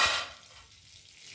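Ghee hisses in a hot kadai for jeera rice, a brief bright sizzle that flares at the start and then settles into a faint, quiet crackle.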